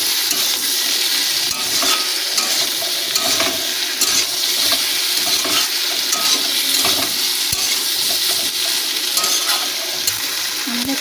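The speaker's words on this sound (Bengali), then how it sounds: "এক চামচ মতন জিরের গুঁড়ো দিয়ে তাকে ভালো করে কষিয়ে নেবো" Cumin powder with turmeric and chili powder fried and stirred in a hot pan: a loud, continuous hiss of sizzling oil with frequent small scraping and clinking strokes of a spatula, no talking.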